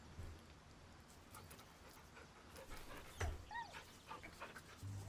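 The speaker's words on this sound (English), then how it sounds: "He's a good dog." A pet dog pants softly and lets out faint whimpers while being stroked, a quiet, close, steady breathing texture with a few thin high whines and light rustling.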